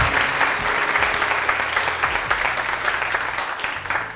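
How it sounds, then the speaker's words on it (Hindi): A studio audience on a televised morning show breaks into sustained, lively applause, with many hands clapping densely and evenly for several seconds before it begins to fade. "बहुत सारी तालियां माही के लिए।"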